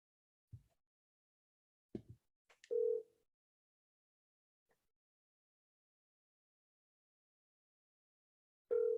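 Phone call being placed during a debate round prep: scattered soft clicks and taps, then a steady ringback tone that sounds once, then again after a long quiet gap.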